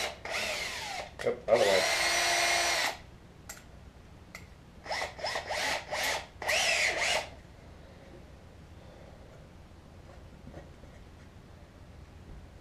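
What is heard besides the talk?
power drill drilling holes in wood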